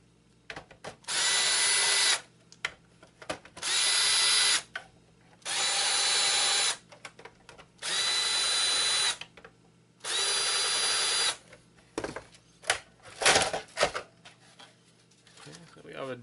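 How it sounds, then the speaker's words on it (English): A power drill unscrews the dead power supply from an old PS3 being stripped for scrap, running in five sustained bursts of about a second each with short pauses, followed by lighter handling clatter. "now let's unscrew the power supply"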